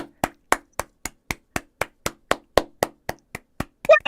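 Hands clapping in a steady, even rhythm, about fifteen sharp claps close by, ending with a brief louder burst.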